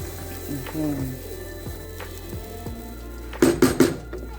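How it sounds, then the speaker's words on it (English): Green chili sauce of bell pepper, garlic, ginger and onions frying in coconut oil in a pot, with a soft steady sizzle and a spoon stirring and scraping, then a quick burst of loud clanks against the pan near the end. "And then you allow it to cook or fry."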